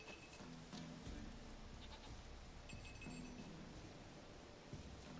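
A goat bleating in The Witcher video game, a few short nasal calls over quiet game ambience with faint clinking, no speech.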